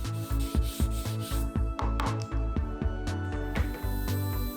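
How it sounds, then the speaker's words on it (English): Sandpaper is rubbed over a plywood box to remove excess dried glue, producing loud, rhythmic back-and-forth rasping strokes up close, with no speech. "sand off any excess glue that might be on there"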